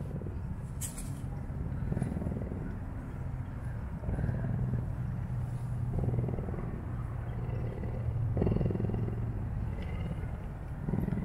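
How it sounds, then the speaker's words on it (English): A tiger purrs in a low, steady rumble, rising and falling in rhythmic pulses every couple of seconds, close up with faint background noise. "Can you guys all hear him purring?"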